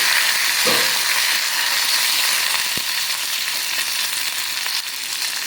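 Curry leaves sizzling in hot oil with mustard seeds, dal and dried red chillies for a Madurai-style watery chutney, a loud, close, continuous crackling hiss with a brief sharp pop near the start.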